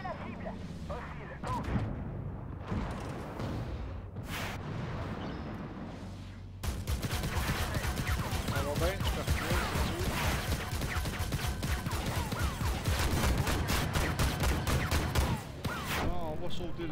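Rapid-fire cannon on a BMP-3M infantry fighting vehicle in a video game, a dense stream of repeated shots and impacts over steady engine rumble, growing louder and busier after a quieter stretch.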